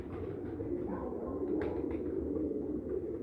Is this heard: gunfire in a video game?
no